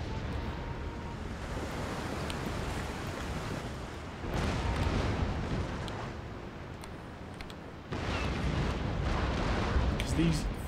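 Warship cannon fire in an Empire Total War naval battle, heard as dull, distant booms and a rumbling roar under constant sea and wind noise, swelling louder twice.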